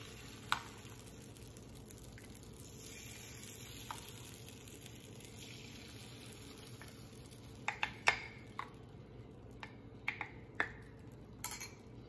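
Keto chaffle batter is spooned into a hot, sprayed waffle maker, giving a soft steady sizzle with a string of light metallic tablespoon clinks and taps toward the end.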